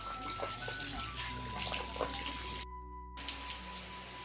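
Steady rain falling in a mountain village during the monsoon month of Sawan, a dense continuous hiss with water splashing and dripping close by and faint background voices. There is a brief dropout near the end.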